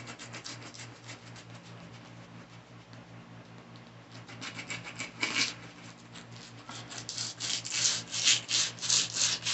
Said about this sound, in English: now what I'm doing is scrubbing it. So, I know y'all can't see it, but look, I'm scrubbing the shoe